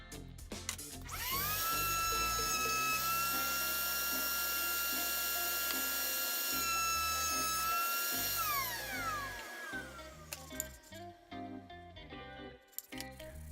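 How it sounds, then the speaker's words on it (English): A router table fitted with a 1/4 inch dado bit cuts a groove in pallet wood. A loud, steady high whine spins up, holds for about eight seconds and winds down, followed by scattered clicks and handling noise. No one speaks. "After those rip cuts, I installed a 1/4 inch dado bit in my router table."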